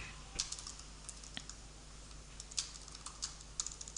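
Fingers type on a computer keyboard, quiet and near, producing irregular clusters of soft key clicks with short pauses between bursts, no voices present.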